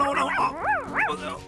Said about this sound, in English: It's Timmykins, the mayor's dog